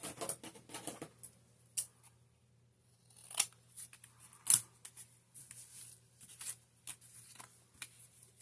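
Scissors cut the tops off paper belly bands for a junk journal, making quiet, close snips and paper rustles in an irregular rhythm against a faint low hum.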